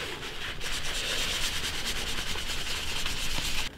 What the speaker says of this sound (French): Je prends mon morceau de sopalin ou l'estompeur.